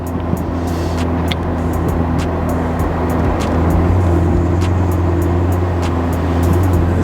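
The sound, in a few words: Ferrari 488 Spider engine while driving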